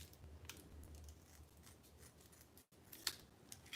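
Scissors snip through a container lid, several soft close crunchy cuts spread over a quiet room with a sharper cut near the end, no talking.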